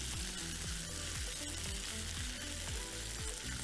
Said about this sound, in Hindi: फ्राई कर लेना है थोड़ा सा, ताकि आलू जो हैं वो भी हमारे पास डन हो जाए